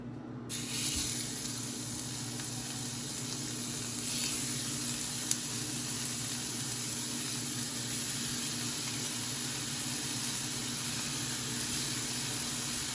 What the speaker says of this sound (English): I think I'm gonna go ahead and put my sausage on.